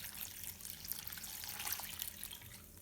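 Vinegar pours into a pan for beetroot and elderberry chutney, a steady, quiet liquid stream splashing and trickling for about three seconds with no voices.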